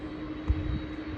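TUI Boeing Dreamliner airliner at an airport runway, a steady low engine rumble with a faint whine, heard from a distance without any talk.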